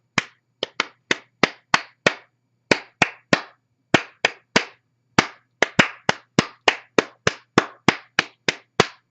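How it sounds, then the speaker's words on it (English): A single pair of hands claps out the rhythm of Mary Had a Little Lamb, crisp close claps in grouped phrases with short pauses between them, heard alone with no talking. "So I'm going to clap out the rhythm pattern to Mary Had a Little Lamb."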